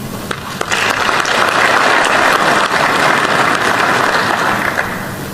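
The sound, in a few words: applause from an audience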